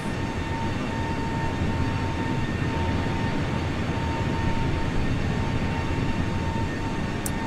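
A Southwest airliner takes off from runway 27 in Microsoft Flight Simulator, its jet engines producing a loud, steady roar that holds at the same level from start to finish, with no talk.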